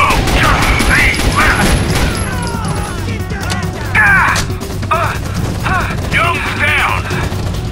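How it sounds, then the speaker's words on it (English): A grenade goes off in Rainbow Six Vegas with a heavy crashing burst, followed by mechanical clatter and bursts of combat noise, with voices talking over parts of it. "Grenade!"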